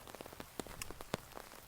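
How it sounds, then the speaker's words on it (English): Rain falling outdoors in the morning, scattered close drops tapping and pattering irregularly on a surface, with a few sharper hits standing out. "And it's raining."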